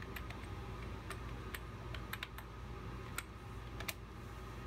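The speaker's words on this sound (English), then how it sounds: "Hit Enter and type in your password." Keys tapped on a computer keyboard for a password, setting up an older Mac Pro 1,1: a few scattered, sharp clicks spread irregularly over a steady background hum, fairly close and fairly quiet.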